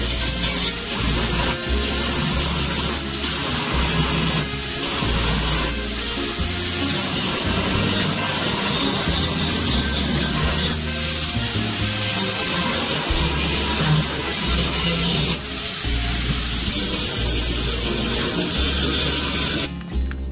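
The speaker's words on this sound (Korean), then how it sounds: "용접 부분을 갈아내고요." Angle grinder working down welded steel joints on an outdoor metal frame, a loud continuous abrasive grinding and rasping that runs steadily for the whole stretch with brief dips in pressure, no voices.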